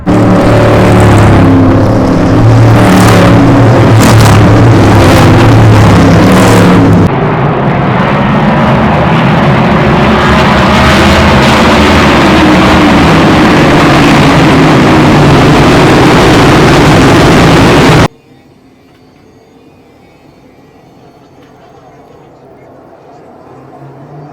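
NASCAR race cars roaring loudly at the start of a race, a dense sustained engine drone with passing bursts for about eighteen seconds, with crowd or voices mixed in, before cutting abruptly to near silence.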